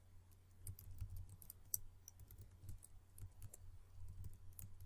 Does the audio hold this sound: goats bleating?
no